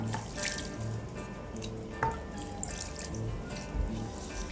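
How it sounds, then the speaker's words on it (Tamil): Water runs and splashes steadily into a mixing bowl of spices for cauliflower 65 batter, with small drips and clinks, at close range and moderate volume. "கொஞ்சம் தண்ணி ஊற்றிக்கணும்."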